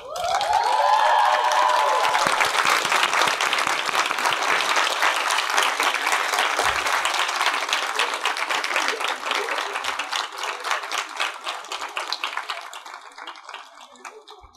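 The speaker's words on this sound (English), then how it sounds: "give a round of applause to the parents, families, teachers, and friends who have made getting here possible" The graduating class of 2019 at the 26th IVS convocation applauds parents, families, teachers and friends: loud, dense clapping from a large crowd that holds strong and then gradually thins toward the end.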